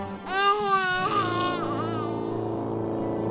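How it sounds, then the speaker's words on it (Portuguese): A small baby crying from inside a tomb, a wavering, high-pitched wail rising and falling in several drawn-out sobbing bursts, close and clear against a faint low hum. "é um choro de criancinha"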